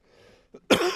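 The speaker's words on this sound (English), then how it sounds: "after me coughing so much" A quiet pause, then a small throat catch and one harsh, loud cough close to the mic.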